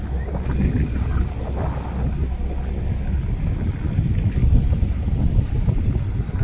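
A passenger launch boat crosses open water toward Alibag, its engine a steady low drone blended with wind buffeting and water rush, continuous and close throughout with no speech.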